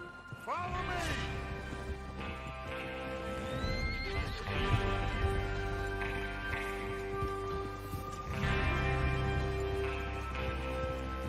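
Horses in Red Dead Redemption 2 whinny and snort while hooves clip-clop on the ground, with a loud neigh near the start and another later, the hoofbeats continuing throughout.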